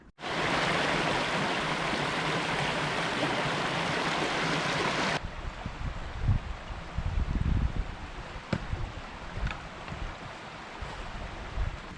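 Water rushes steadily along Sin and Flesh Brook in Rhode Island, a dense broadband wash that drops abruptly to a softer, rougher trickle with scattered splashes and knocks; close and unvoiced.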